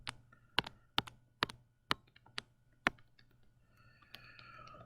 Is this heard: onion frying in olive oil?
no